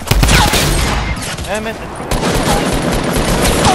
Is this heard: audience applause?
no